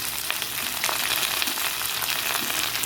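Potatoes, onion and chili frying together in a pan hiss in a steady, dense sizzle that stays loud and close throughout, with no voices.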